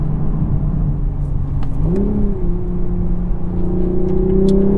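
A 2023 Toyota Supra with a manual gearbox revs while being driven, its engine drone rising in pitch, dipping slightly at a shift, then climbing again, loud and steady from inside the car.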